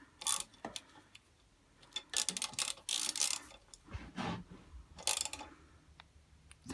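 A stud being tightened on a 1976 Puch Maxi moped during restoration, heard as a series of close ratcheting clicks and metallic creaks in short bursts separated by quiet pauses.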